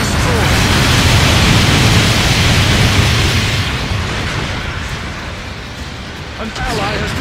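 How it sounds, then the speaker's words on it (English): A destroyed enemy mobile suit blows up in Gundam Battle Operation 2, a loud, dense roaring blast that holds steady for several seconds and then eases off slightly, with game voice lines over it. "Enemy mobile suit destroyed!"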